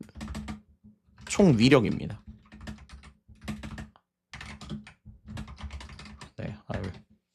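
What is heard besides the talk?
typing on a computer keyboard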